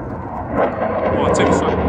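A military jet flies past at an air show, making a loud roar that swells as it passes overhead. Spectators talk excitedly over the noise.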